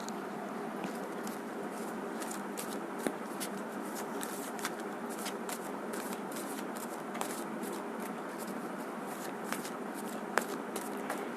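Tarot cards being shuffled by hand in a steady run of soft riffling, with papery flicks and brief sharper snaps, close and continuous without talk.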